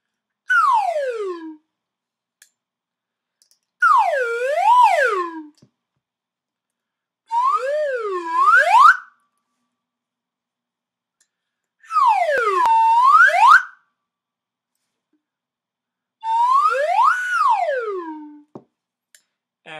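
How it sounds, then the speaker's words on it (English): A slide whistle plays five separate swooping phrases, each sliding up and down in pitch, with silent gaps between them. "I have my slide whistle"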